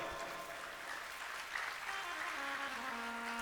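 Audience clapping at a religious discourse on rudraksha, a dense, steady wash of applause from many hands, fairly faint and distant, with a sustained tonal hum underneath.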